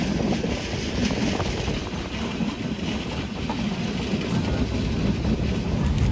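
Tamralipta Express running through Deshpran station without stopping, a steady loud rumble of rolling wheels and rattling carriages throughout, with no talk.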